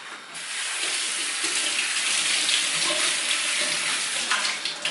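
Running tap water pours steadily over raw meat being washed, a continuous close hiss and splash with slight shifts as the meat moves under the stream.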